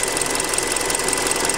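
A Hyundai Creta engine running with a rapid, even knocking clatter, loud and close, steady throughout with no talk.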